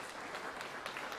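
A church congregation applauding, a dense steady wash of many hands clapping together, heard at moderate distance and fairly faint, with no talk over it.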